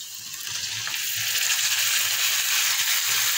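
Two large tomatoes, chopped into small pieces, go into a softening frying mixture in a home kitchen, giving a steady broadband sizzle with faint stirring underneath.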